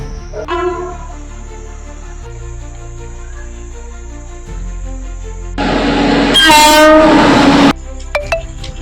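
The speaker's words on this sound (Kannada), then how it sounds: "ಟ್ರೈನ್ ಬರ್ತಾ ಇದ್ದೆ ಅಣ್ಣ ಟ್ರೈನ್ ಹತ್ರ ಬಂತು ನೋಡಲ್ ಬರ್ತಾ ಇದೆ" A train horn blares loudly and close, with rumbling rail noise building as the train nears, and a short burst of sound at the end.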